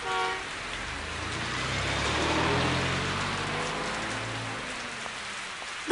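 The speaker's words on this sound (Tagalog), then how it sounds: "walang tigil ang ulan" Heavy rain pours steadily, a dense hiss of drops on surfaces, with a low rumbling vehicle passing underneath.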